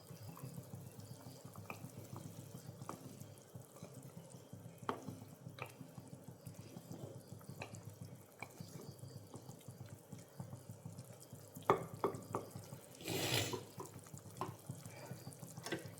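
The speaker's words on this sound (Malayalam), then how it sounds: "വെള്ളം നന്നായി തിളച്ചു. ഇനി നമുക്കത് വറ്റിച്ചെടുക്കാം." Quiet, steady bubbling and popping of water simmering in a pan, with faint irregular clicks and a brief louder burst near the end.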